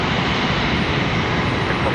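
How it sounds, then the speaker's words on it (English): A Delta Airlines Boeing 717 departs from Charlotte Douglas International Airport, its jet engines producing a loud, steady broadband roar that fills the whole short stretch without letup. "another 717 for Delta Airlines coming across here shortly. Got another departure already."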